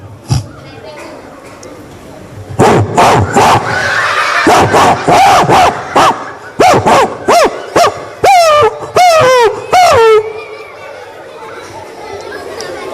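A crowd of children imitates a dog barking at a community poetry gathering, with a quick run of loud, short yelps shouted together in bursts across several seconds over background chatter.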